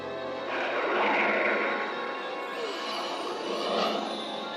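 A cartoon aircraft comes in to land with a steady engine whoosh that swells twice and then settles. It stays fairly loud throughout, with no talk over it.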